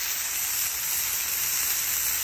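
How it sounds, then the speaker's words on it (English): A smash burger frying in its own juices on a hot griddle gives a steady, close, broadband sizzle that hisses evenly throughout, with no voices. "You gotta let the burger fry in its juices."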